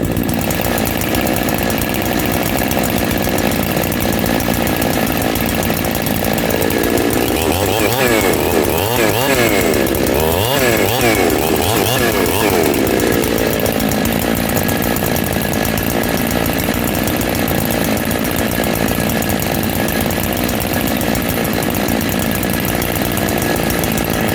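Two Husqvarna 365 chainsaws roar together continuously and loudly, with engine pitch rising and falling in overlapping revving bursts near the middle.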